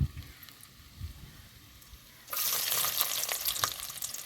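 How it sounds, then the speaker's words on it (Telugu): Onions dropped into a hot pan for vegetable fried rice: quiet kitchen sounds first, then a sudden loud, close sizzle that holds steady with crackling pops, no voices. "ఉల్లిగడ్డలు కూడా వేసుకుందామండి ఇప్పుడు"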